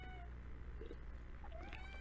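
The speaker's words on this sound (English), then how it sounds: "you hear my cat meowing in the background" A house cat meows in the background, a couple of short faint mews with a rising whine near the end, set against steady low room hum.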